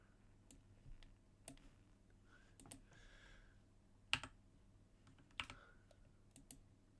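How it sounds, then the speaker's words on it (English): Sparse, quiet clicks of a computer keyboard during a coding session, isolated keystrokes and short bursts spread irregularly over several seconds against a faint room background. "Do you guys like the keyboard typing stuff that much?"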